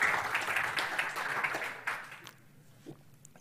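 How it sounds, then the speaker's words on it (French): Applause from an audience at a technical talk on Go concurrency, a burst of clapping that thins out and fades after about two seconds, ending in near quiet with a stray clap. "Vous pouvez applaudir si vous voulez."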